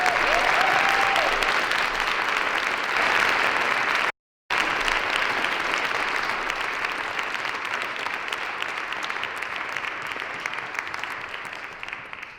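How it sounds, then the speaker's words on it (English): A conference audience gives a sustained round of applause for a climate justice discussion panel at a high school event, dense and steady clapping filling the room, briefly cut out near the middle and slowly fading toward the end. "So let's give them all a round of applause."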